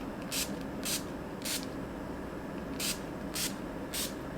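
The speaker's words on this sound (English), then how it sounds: "it's just gonna mist your face with this beautiful veil of setting spray" A makeup setting spray mists onto a face in six short, crisp bursts, three close together, a pause, then three more, over a steady low background hum.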